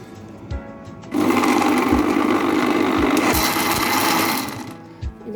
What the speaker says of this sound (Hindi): इसे मैं अच्छी तरह से करूँगी ब्लेंड